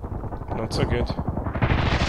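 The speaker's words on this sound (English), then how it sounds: "Four guys killed by this mortar strike." Mortar strike explosions in the Contract Wars shooter game come as rumbling, booming blasts with a rough, continuous roar behind them, and a voice is heard over them.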